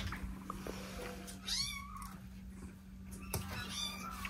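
Kittens meow indoors, with a couple of distinct, rising mews over a steady electrical hum, close and fairly clear.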